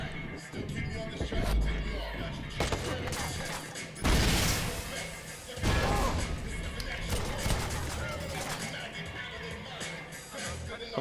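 Bursts of gunfire from a firefight in the video game Watch Dogs, with sharp heavy shots around a headshot over a busy mix of game sounds and loud music; a voice talks at times.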